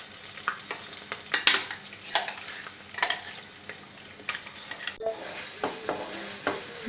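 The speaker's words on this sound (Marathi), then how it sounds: "गॅस मोठा ठेवून आपण 1 ते 2 मिनटं चांगलं परतून घेतलेलं आहे" Ground masala paste sautéing in a pan over a high flame for a paneer do pyaza, a steady sizzle and fry broken by repeated scraping stirs, close and fairly quiet, with no voices.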